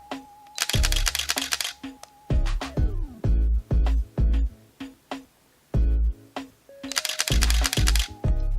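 Rapid bursts of sharp mechanical clicks from a camera shutter, some in fast rattling runs, others as separate single snaps with short pauses between.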